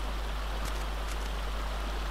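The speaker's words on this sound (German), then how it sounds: "Und zwar wollte ich jetzt einen Wasserfall" Waterfall in the video game ARK: Survival Evolved, heard as a steady, loud, dense rush of falling water that continues without a break, with no voices over it.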